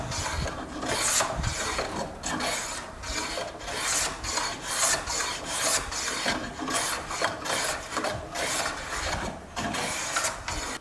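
A Qiangsheng No. 62 low-angle jack plane shaves wood in steady repeated strokes, a close, continuous rasping hiss with rhythmic pulses and no talk.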